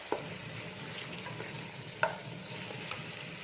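Onion and garlic fry in a pan for an olive and meat tagine while being stirred, a steady soft sizzle broken by a few sharp utensil clinks against the pan.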